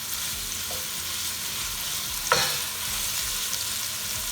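Chicken pieces frying fast over high heat give a steady broadband sizzle throughout, with one brief louder clatter near the middle.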